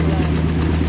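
Tractor engine idling steadily at a tractor pull during a steam and gas engine show, a low droning hum with a strong low-frequency drone, close and continuous with voices faintly over it.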